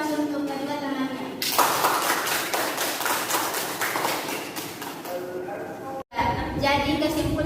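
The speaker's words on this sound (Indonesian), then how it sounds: "Beri aplaus untuk kedua temannya." Classroom applause for two students during an Indonesian microteaching lesson on biodiversity: a steady patter of many hands clapping for several seconds, with the teacher talking before and after it.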